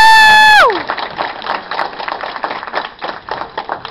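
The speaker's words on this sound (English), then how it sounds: "So give yourselves a round of applause." Convention audience at WasabiCon breaking into applause and cheering, a dense crowd of clapping that follows a short falling electronic tone and carries on steadily.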